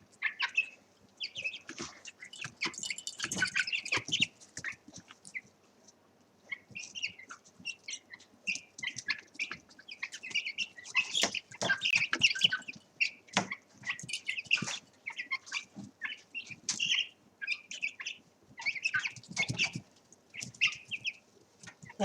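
Chickens kept inside a house, busy clucking and peeping from several birds in irregular bursts throughout, close but fairly soft.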